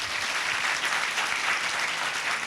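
A church congregation at a Sunday communion service claps loudly in a dense, continuous burst of applause that stays even from start to finish, with no talking over it.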